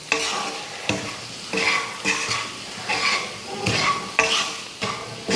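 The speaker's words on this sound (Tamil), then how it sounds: "அதையும் இதில் சேர்த்துடலாம் சேர்த்துட்டு கிளறி விட்டுருவோம்" Chopped boiled eggs are stirred into masala in a pan for a Tamil egg fry, with repeated rhythmic scraping strokes of a spoon over steady sizzling, loud and close, with no talk.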